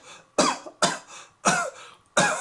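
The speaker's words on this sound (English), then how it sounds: "Thornton is lightly coughing as he sits behind the table in the prison." A man coughs lightly four times while sitting behind a table in a prison, each cough short and dry, close to the listener, spaced evenly with no talking in between.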